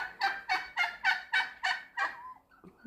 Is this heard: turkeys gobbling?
yes